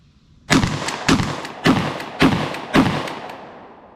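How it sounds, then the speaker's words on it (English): Five loud, sharp shotgun blasts from a pump-action fired in quick succession on a shooting range, evenly spaced about half a second apart, each with a short decaying tail and no talking. "let's see how quickly we can run through these 5 shots with a pump"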